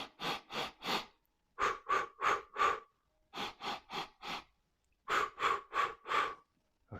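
Slow guided breathing exercise: rhythmic groups of three to four soft, close breaths separated by short pauses, steady and unhurried with no talking.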